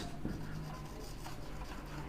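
Marker or chalk writing on a board during a maths lesson on a right circular cone, a faint, continuous scratchy rubbing over a low room hum with no talk.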